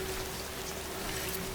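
Rain in the video game Death Stranding falls as a steady, dense hiss of drops, with a faint low hum running beneath it throughout.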